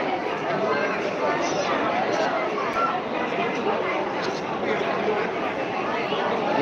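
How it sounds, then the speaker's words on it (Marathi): A dense, steady babble from a large crowd of pilgrims at Trimbakeshwar temple, with many overlapping voices chattering close by and no single voice standing out. "एवढी सारी गर्दी झालेली आहे इथे"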